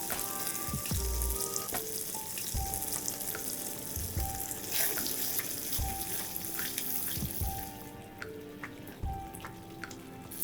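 Capsicum and cream hit hot oil in a pan for restaurant-style paneer kali mirch, giving a steady, close sizzle and frying hiss with scattered stirring clinks throughout.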